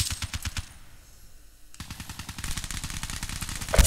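Rapid automatic gunfire from a heavy weapon in the Call of Duty Black Ops 3 game, Havoc map, rattles in dense bursts, pauses for about a second, then resumes in a steady hammering stream.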